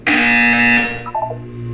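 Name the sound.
buzzer sound in Portal 2 video game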